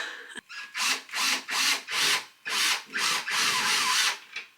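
A power drill bores into a drywall ceiling to fit a hook for hanging a disco ball, loud close bursts of whirring and grinding in about eight pulses separated by brief pauses, with no talk.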